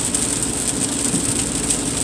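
Rain falls steadily while someone drives through it, a dense continuous patter of drops with a low rumble underneath. No one speaks.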